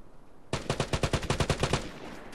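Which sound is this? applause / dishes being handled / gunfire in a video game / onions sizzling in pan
gunfire in a video game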